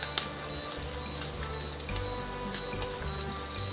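Egg-dipped bread frying in a pan, a soft steady sizzle with faint pops and a low background hum.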